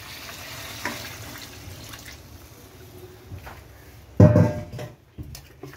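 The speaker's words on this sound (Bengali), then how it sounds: "আমি এই গামলা ধুয়ে জল রেখেছিলাম, এই জলটা দিয়ে দিচ্ছি।" Water from a rinsed basin is poured into chicken frying in a pan, bringing a quiet background sizzle and then a sudden loud splashing hiss near the end.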